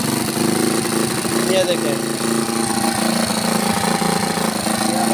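An old engine with a badly adjusted carburettor revs unevenly and chokes under throttle, sputtering continuously up close while someone talks over it.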